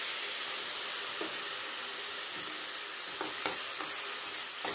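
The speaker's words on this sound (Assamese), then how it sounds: "এই গোটেইখিনি মছলাখিনি অকণমান সময় ভাজি থাকোঁতে" A spice mixture of ground spices, chili, salt and a splash of water fries in a pan, giving a steady close sizzle with a few soft stirring scrapes and clicks throughout, and no talking.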